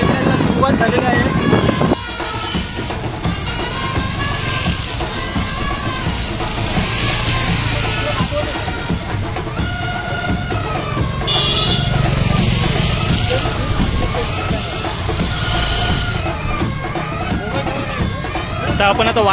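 Hundreds of motorcycles ride together in a bike rally to a hilltop temple, a steady loud rumble of engines and wind. A voice talks over the sound throughout.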